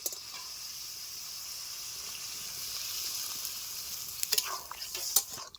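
Sautéed masala in a pan for a pineapple dish, a steady faint sizzle with stirring, then a few scrapes and splashy bursts near the end as water goes in, close and without talk.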